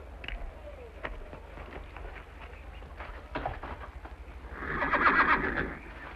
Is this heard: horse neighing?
yes